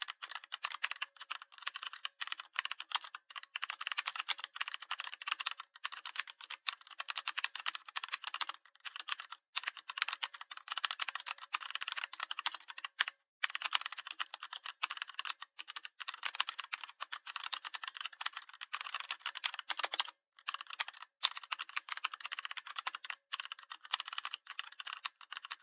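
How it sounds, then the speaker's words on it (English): Typing on a computer keyboard: a steady, dense stream of quick key clicks with brief pauses, close and fairly quiet, with no talking. "Watch me type it in."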